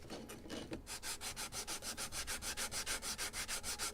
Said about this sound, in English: Maybe a little more sanding because I cut too much with too many spare wood.